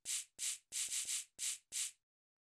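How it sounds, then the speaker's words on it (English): A sampled shaker in a drum beat plays seven crisp, bright hits in a loose, slightly uneven rhythm, several of them quick doubles. The shaker sounds close and alone, and it stops before the end. "So this is a simple kind of like shaker sound."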